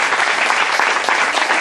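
Loud, sustained applause from a church congregation, a thick wash of many hands clapping hard without pause, close and energetic.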